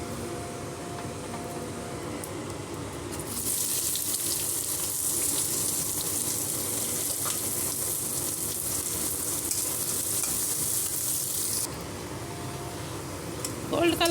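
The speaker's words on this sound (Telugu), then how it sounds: "ఆయిల్ వేడైందండి, ఆనియన్స్ వేసుకుందాము." Onions sizzle and fry in hot oil in a home kitchen pan, a loud steady hiss that starts a few seconds in and carries on strongly before easing back to a quieter crackle.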